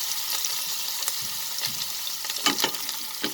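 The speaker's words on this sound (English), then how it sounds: "the dried red chilies, and in goes the brinjal, the eggplant, or the bangan" Eggplant sautéing in hot oil with dried red chilies and fenugreek seeds gives a continuous close sizzle with bursts of crackle and the scrape of stirring scattered throughout.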